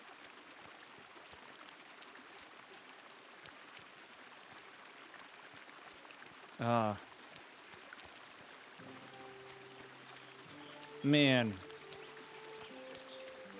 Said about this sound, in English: The moving brook sounds so amazing.